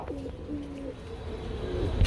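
Pigeons coo softly in a steady, throaty rolling pattern, a couple of low calls repeating over a quiet background, with a brief bump of noise at the end.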